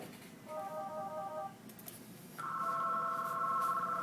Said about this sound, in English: This is the phone ringing.